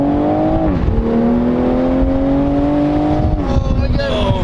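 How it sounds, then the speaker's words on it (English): A Toyota Supra accelerating hard, its engine note climbing steadily through gear changes with brief dips between shifts, loud and close from inside the car, with no one speaking. "Alright, so I'm driving the Supra now."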